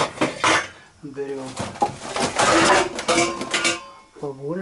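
A cooking pot is handled in a kitchen while Olivier salad with sausage is prepared, with clanking metal and knocks of cookware heard in bursts up close, and a person speaking over it.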